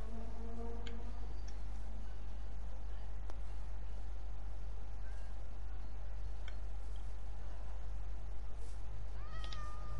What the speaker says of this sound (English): No, I'm speaking to the cat.